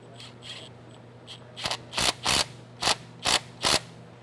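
A worm gear clamp is tightened on a radiator hose, producing a series of short, sharp ratcheting clicks and scrapes that grow louder and more regular toward the end, up close with no talk.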